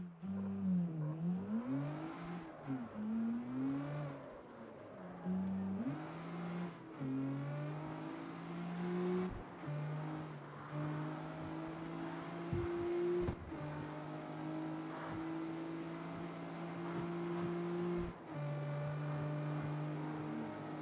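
A car engine in the driving game CarX Street hums and rises through repeated revs and gear shifts, a steady, fairly quiet drone with engine tones sliding up and down throughout.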